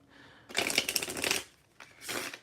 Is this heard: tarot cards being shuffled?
yes